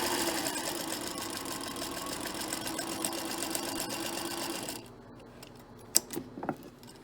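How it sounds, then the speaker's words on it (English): A sewing machine runs steadily, stitching a quarter-inch seam on the bottom sashing of a quilt block, then stops, leaving a few light clicks and handling noises afterward. "We are sewing with a 1/4 inch seam."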